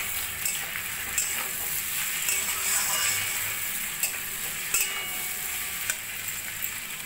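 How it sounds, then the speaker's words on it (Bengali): Drumsticks (moringa pods) and vegetables sizzle steadily in oil while being stirred in a pan for Bengali shukto, with scattered clicks and scrapes of the spoon over continuous frying hiss. "সজনে ডাঁটাগুলো দিয়েও আমি 2-3 মিনিট মতো রান্না করে নেব।"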